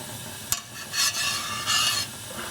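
A pot of water coloured with Wiltons sky blue food colouring simmers for hand dyeing, a close, steady hissing bubble that swells twice, opened by a single sharp click.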